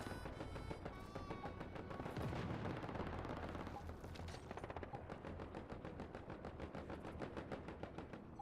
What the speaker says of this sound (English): I hear somebody shooting a big gun over here, though.